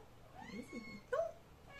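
A cat meows indoors, a few soft rising mews followed by one louder, sharper meow, close by and otherwise quiet.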